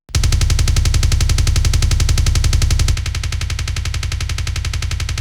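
A heavy metal kick drum in its original, unprocessed form hammers in a fast, relentless machine-gun stream, loud and dense with a booming low end that thins slightly partway through, with no voices.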